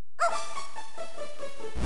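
A single short dog bark from the Game Boy Advance game Zelda: The Minish Cap, a clipped, synthesized yelp heard alone and clearly.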